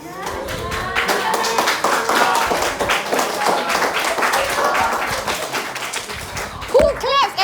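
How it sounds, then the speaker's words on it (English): Children in a classroom clap at the end of a math lesson, a dense spread of quick hand claps and taps with kids' voices mixed in, steady throughout and close, with a few brighter squeals near the end. "Who claps at the end of math lesson?"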